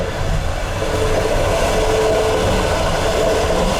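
An old Russian passenger train heads south from Moscow, heard from inside a carriage as a loud, continuous rumble with rolling wheel noise and a faint squeal, steady throughout.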